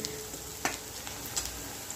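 Onions sauté in a pan until pink, giving a soft, steady sizzle with a few brief stirring scrapes and clicks from a utensil, close and quiet.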